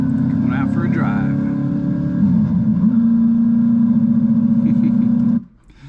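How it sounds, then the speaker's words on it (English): Ford Thunderbird, a Hooters race-themed car, driving with a steady low engine drone and some revving under a man's speech, then cutting off near the end. "Going out for a drive."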